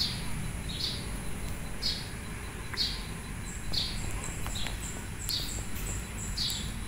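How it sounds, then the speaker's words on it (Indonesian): Sparrows chirp outdoors on a morning just after rain, with short, bright calls repeating roughly every second over a low, steady ambient rumble. "Habis hujan banyak burung pipit kayaknya."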